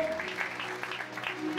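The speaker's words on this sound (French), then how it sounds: "on va applaudir pour le musée du Cercle Africain" Applause at an awards ceremony in Pointe-Noire, a soft, fairly distant wash of clapping with a murmur of voices mixed in, steady across the short moment.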